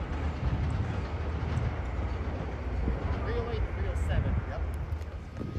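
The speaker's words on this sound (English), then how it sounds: "All right, folks, there go that train on its way to Tabian." A Caltrain commuter train rolls past at Santa Clara station, a steady broad rumble of wheels and cars close by that holds level throughout, with a voice talking briefly over it.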